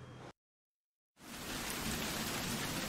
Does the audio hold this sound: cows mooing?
no